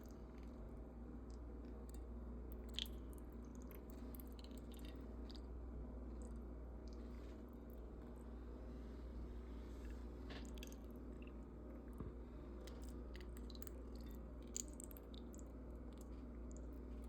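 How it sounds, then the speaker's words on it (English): Boiled turkey necks dressed in an orange juice, ginger, butter and seasoning sauce are eaten close up, with soft wet chewing and squishing over a low steady hum and occasional faint clicks. "our turkey necks are ready and we are ready to eat"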